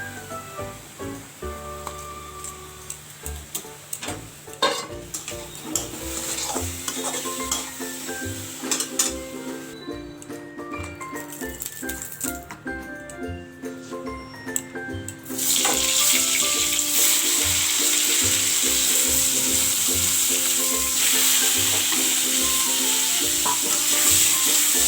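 Pointed gourd (potol) slices frying in a pan, with a loud continuous sizzle and scattered stirring clatter that swells into a dense, steady hiss near the end.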